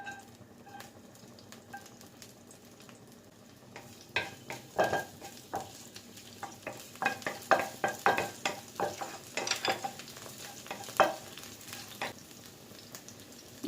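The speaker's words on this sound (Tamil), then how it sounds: "எண்ணெய் சூடு வந்ததுக்கப்புறமா கட் பண்ணி வச்சிருக்க பூண்டும் இஞ்சியும் சேர்த்துக்கலாம்." Chopped garlic and ginger sizzle in hot oil in a kadai, with a soft steady fry broken by sharp scraping and clinking of a stirring spoon against the pan that quickens over the second half.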